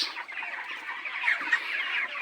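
A large flock of hungry broiler chickens from a poultry farm, unfed for a day, keeps up a dense, continuous clucking chorus close by, without any talk.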